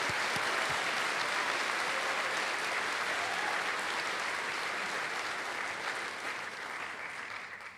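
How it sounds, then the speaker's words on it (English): A large audience at a North Idaho College commencement applauds in a continuous, even roar of clapping that holds steady before gradually fading at the end. "Please join me in a round of applause for all our employees."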